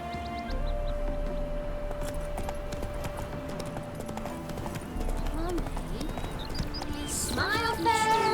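Hooves of Geralt's horse Roach in Witcher 3 clip-clop in a steady rhythmic gait, close and clear, with a horse whinny near the end and background music under the steps.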